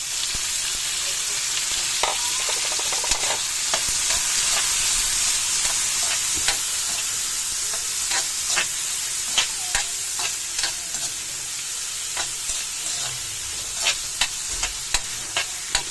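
Tomatoes being stirred into ampalaya (bitter melon) sizzling with onions in a frying pan, a steady loud sizzle throughout with repeated scraping and clacking of a utensil against the pan.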